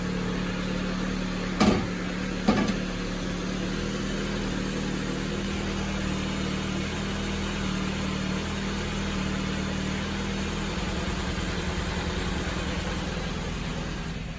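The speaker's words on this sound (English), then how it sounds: "the transmission's engaged and it's spinning, but I'm giving it gas and I'm getting no rev" A 2014 Jeep Patriot engine hums at a steady, unchanging drone for the whole stretch despite being given gas, never climbing in revs; two brief thumps break in early on.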